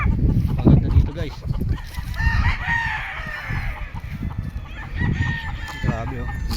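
A rooster crows on a farm, the call rising over other fowl clucking and honking nearby while someone talks over the birds.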